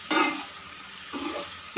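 Onion, capsicum and green chili cooking in sauce for chilli paneer are stirred in a hot pan, giving two short scraping stirs over a soft, steady sizzle.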